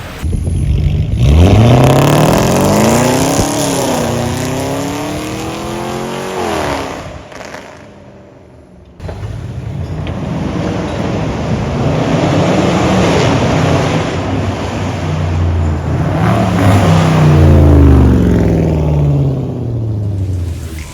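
A loud titanium Veleno Performance exhaust on a Land Rover Range Rover SVR roars as the SUV accelerates hard and passes by, engine pitch climbing through gears, then another launch with rising revs.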